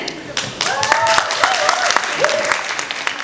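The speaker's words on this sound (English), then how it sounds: "shall we have a big round of applause for the team once again?" Audience applause at a film trailer launch event in Delhi: a steady wash of clapping with cheers and whoops mixed in, sustained and fairly loud throughout.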